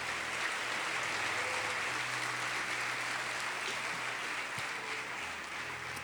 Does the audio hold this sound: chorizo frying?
no